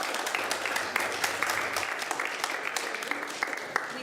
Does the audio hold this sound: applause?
yes